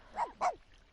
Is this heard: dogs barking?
yes